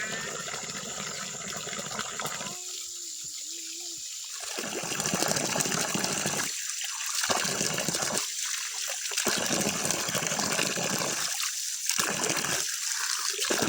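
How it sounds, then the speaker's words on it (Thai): Vegetables washed under running water, a continuous close splashing and gushing stream broken by several short pauses where the flow stops, with no talking. "น้องพลอยกับน้องนุชล้างพัก"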